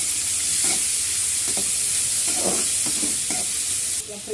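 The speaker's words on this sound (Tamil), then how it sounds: "இப்போ வெங்காயம் சேர்த்துக்குங்க. நல்லா வதக்கி விட்டுக்கோங்க." Onions sauté in a pan for pakkarkai (bitter gourd) kuzhambu, a loud, steady hissing sizzle with several soft stirring scrapes, close by, easing slightly near the end.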